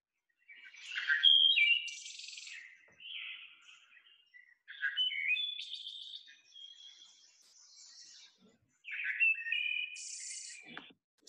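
Wood thrush song recorded in spring in South Carolina forest, with three separate bursts of fluting, chiming phrases and trills separated by short silences, clear and fairly close against a quiet background.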